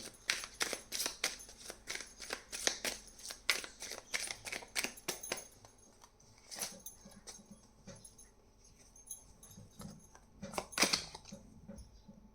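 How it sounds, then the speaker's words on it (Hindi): Tarot cards shuffled by hand close up, a rapid run of crisp papery snaps and flutters that pauses midway and then resumes in shorter bursts. "इसको हम साइड में रख देंगे और कार्ड्स को शफल करना शुरू करेंगे"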